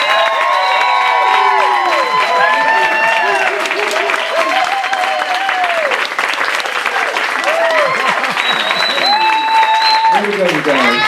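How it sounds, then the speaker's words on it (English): Comedy club audience at a Stand Up for Mental Health show in Austin applauds and cheers, a dense steady wash of clapping with whoops and shouts throughout, loud and close. "Give them a big round of applause."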